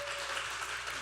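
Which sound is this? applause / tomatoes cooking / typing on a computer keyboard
applause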